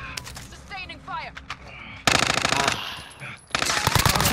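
Call of Duty: Modern Warfare gunfire, with two loud, dense bursts of rapid automatic shots separated by a brief pause, preceded by game chatter and effects, with voices heard in the mix.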